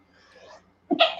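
A person sneezes once, sharp and close, right after a soft breathy intake of air, in a quiet indoor setting.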